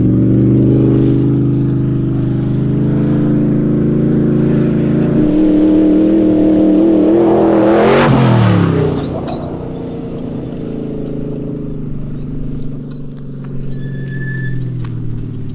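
Ford F150 prerunner truck driving over rough terrain, a steady engine drone with a brief loud surge and impact as it lands, then continuing engine rumble.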